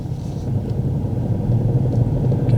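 A car drives along during a driving lesson, its engine a low, steady rumble heard from inside the cabin for a few seconds with no speech.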